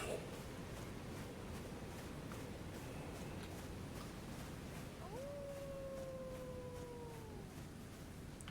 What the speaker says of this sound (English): Notice the wolves howling.